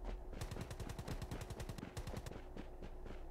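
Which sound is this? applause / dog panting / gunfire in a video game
gunfire in a video game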